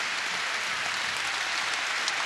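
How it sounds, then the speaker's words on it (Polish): A volleyball arena crowd applauding a departing player, a dense, steady wash of clapping held at an even level throughout, with no break and no clear voices above it. "Żegnany Sebastian Świderski oklaskami"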